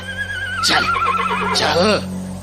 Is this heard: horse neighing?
yes